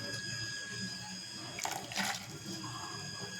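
Water is poured into a mixer jar in a kitchen, a soft continuous trickle with a brief splashy surge in the middle, faint and close.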